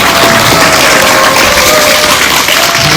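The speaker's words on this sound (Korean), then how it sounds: "공감을 하면 박수를 한번 더 치겠습니다" Loud, steady applause from a temple audience at a Korean Buddhist dharma talk, dense clapping filling the whole stretch without a break and with no talk over it.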